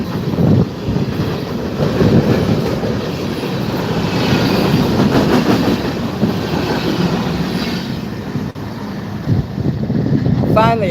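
A fast freight train passes close by, a loud continuous clatter and rumble of wheels on rails with wind buffeting the microphone and a voice talking over it.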